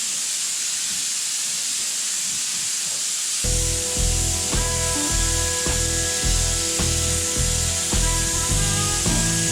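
A paint spray gun lays a tack coat on a hot rod in a garage, giving a continuous close airy hiss, with a rhythmic mechanical hum and knocking starting partway through under it.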